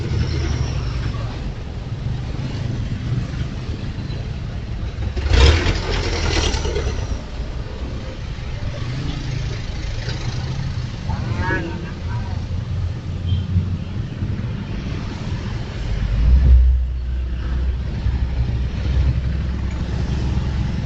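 Yamaha Nmax automatic scooter ridden through stop-and-go traffic: a steady engine drone mixed with wind buffeting on the microphone, with two louder bumps or revs along the way and the rider talking over it at times.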